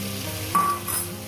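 Drumstick (moringa) pieces frying in a pan for a fish curry, sizzling as spiced water is poured in: a steady close hiss swells into a brief louder burst midway, then settles back.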